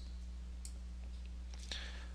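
A few sharp computer mouse clicks during navigation of EHR admin software, faint and brief over a steady electrical hum, with no talking.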